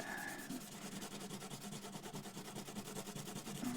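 Close, quiet sanding of a Tanglewood acoustic guitar bridge to remove pencil marks, a steady rapid back-and-forth rubbing scratch continuing throughout without pause.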